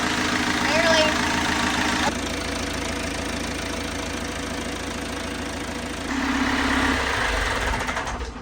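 On a boat at Nuevo Vallarta, Mexico, a belt-driven pump runs steadily with a mid-pitched engine-like drone and faint rattle as it pushes water through a hose, continuous and close while people talk over it.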